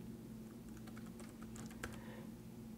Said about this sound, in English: Click on it and just start typing using your English keyboard.